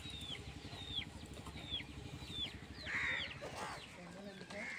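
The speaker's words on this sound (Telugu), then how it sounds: "కోళ్ళకైతే మేత వేసానండి, కొంచెం తింటా ఉన్నాయి." Chickens clucking softly as they peck at feed, with repeated short calls close by over a low steady background hum and a voice speaking at times.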